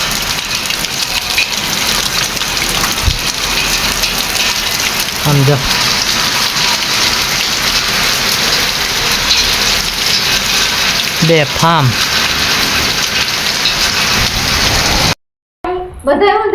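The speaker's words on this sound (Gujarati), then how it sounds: "ધોધમાર વરસાદ આવે છે" Heavy rain pours down hard at midday, a loud, unbroken roar of water on surfaces with an engine idling underneath, while a person speaks briefly near the end.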